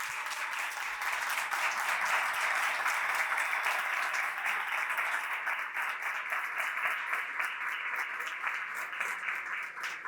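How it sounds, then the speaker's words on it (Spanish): An audience claps steadily for a speaker at a talk, a dense, sustained round of applause that carries on for about ten seconds without pause. "Un aplauso para ella."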